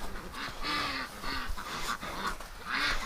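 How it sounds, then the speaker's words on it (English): Ducks from a backyard flock kept in winter quack repeatedly at close range, a run of nasal calls in short bursts over steady outdoor background noise. "I've got a bunch of ducks that want to escape"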